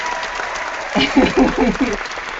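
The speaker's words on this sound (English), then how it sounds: "I'm just going to clap for it" A panel event on gender diversity gets a short burst of applause from a small audience, clapping rising for about a second over a roomy background while a voice speaks briefly underneath.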